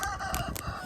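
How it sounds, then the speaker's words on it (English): Chickens cluck and squawk briefly in a short, busy burst close by, with rustling noise behind them. "here's the chickens."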